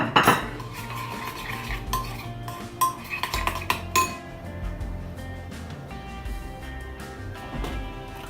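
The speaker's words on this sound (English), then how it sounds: "We're going to mix them very well now. That's going to be our dressing." Olive oil, garlic and pepper dressing being mixed in a bowl, with a utensil clinking and scraping against the dish in irregular bursts, louder knocks early on and softer stirring after, no talking.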